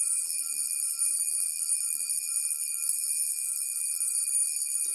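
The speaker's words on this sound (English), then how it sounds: "here's the alarm. It's 20 seconds." Alarm of a Jaeger-LeCoultre Master Compressor Memovox wristwatch ringing continuously at close range, a steady high metallic buzz with no pauses.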